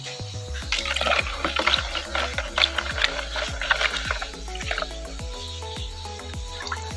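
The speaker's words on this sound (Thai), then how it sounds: "ละลายน้ำไว้ก่อนนะครับ" Earthworm compost fertilizer being dissolved in water, with a steady run of pouring and sloshing liquid plus bubbly trickles close by, continuous for several seconds.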